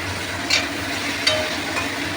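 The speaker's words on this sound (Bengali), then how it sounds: "এগুলো আমার প্রায় ভাজা হয়েই গেছে।" Mixed vegetables with capsicum and slit green chillies fry in a pan with a continuous sizzle, broken by two or three sharp clinks of a stirring utensil against the pan.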